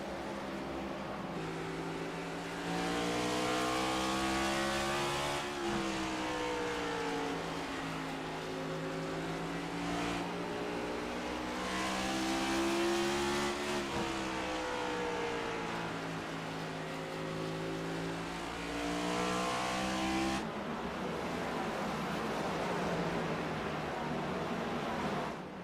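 Stock cars race around Bristol's short oval in the iRacing simulator, with a steady engine drone that rises and falls in pitch as they loop the track and pass close by, heard alone without talk.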